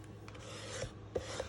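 A folded paper card for a Halloween Frankenstein design being burnished, giving a soft, close, dry rubbing scrape with a couple of small taps, brief and faint, with no talking.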